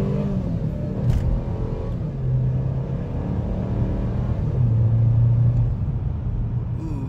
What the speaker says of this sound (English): Do a quick acceleration run from a standstill, and this is kind of uphill too right now.